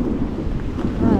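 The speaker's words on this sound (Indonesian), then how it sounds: "Angin kuat." Strong wind buffeting a microphone outdoors in rainy Mecca, a continuous low, rumbling roar filling the whole moment, loud and close with no clear speech.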